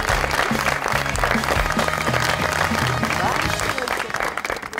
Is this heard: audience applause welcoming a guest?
yes